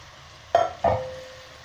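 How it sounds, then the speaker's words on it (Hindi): Turnips go into a cooking pot with a little water for a Sindhi turnip curry, making two sharp sizzling splashes that fade into a brief steady hiss. "अभी हम इसमें शलजम डाल रहे हैं उस पानी के साथ"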